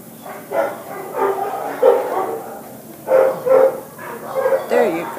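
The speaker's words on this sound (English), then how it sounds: "Here's a German Shepherd at the South LA shelter." A German Shepherd barks and yips at a South LA animal shelter in a series of close, uneven bursts, with a person's voice speaking softly among the barks.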